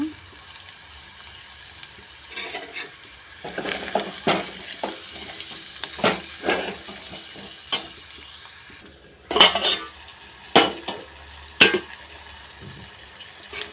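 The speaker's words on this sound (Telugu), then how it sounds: "టమాటా ముక్కలు వేసుకుంటున్నాం ఉప్పు కూడా తగినంత" Tomato pieces and salt cook in a pan for a chicken fry, a low sizzle broken by sharp scraping and clinking stirs that come in clusters, some louder, near and without speech.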